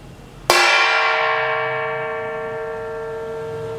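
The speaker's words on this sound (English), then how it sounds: "Strike the steel plate with spoon. Here we get sound." A steel plate struck once with a spoon gives a sharp metallic hit followed by a bright, bell-like ring that sustains and slowly fades over several seconds, heard alone and close.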